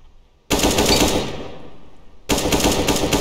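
Rapid automatic gunfire from Counter-Strike: Global Offensive on a training course, two loud sustained bursts split by a short quiet gap, with no talking.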